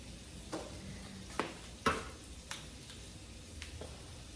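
Chicken and green plantains frying in a pan, Jamaican style, giving a soft steady sizzle with a few sharp spatters and stirring clatters spread through the clip.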